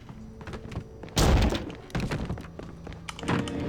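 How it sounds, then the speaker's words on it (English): Flashbangs going off in the video game Alan Wake: a heavy, muffled boom hits hard, then two or three softer thuds follow, all mixed into game sound with no speech. "Flashbangs."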